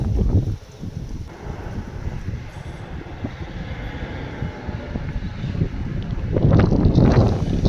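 Wind buffets the microphone beside a railway line, making a continuous broadband rush over low train rumble that swells louder toward the end.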